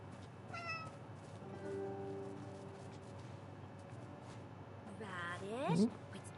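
A cat in a PS5 game meows a few times, faint to moderate, over game background sound, with a louder drawn-out meow near the end and brief talk in between.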